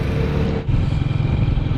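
A motorcycle held below 70 by strong headwind on a road trip from Pakistan to Iran near the Taftan border drones steadily, loud and close, with heavy wind buffeting.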